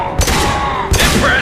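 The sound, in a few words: explosive shot fired in Mass Effect 2 video game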